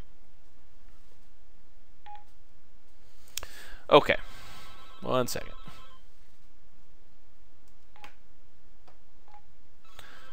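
Telephone keypad tones sound as several quick, widely spaced single beeps with a dense cluster of dialing clicks and tones in the middle, near and clear, alongside someone speaking briefly.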